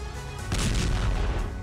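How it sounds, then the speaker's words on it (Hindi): Ukrainian artillery fire on a battlefield against Russian forces: a heavy, rumbling blast erupts about a third of the way in and rolls on with sustained low roar, loud and without speech. "यूक्रेनी आर्टिलरी के ताबड़तोड़ प्रहार का वीडियो"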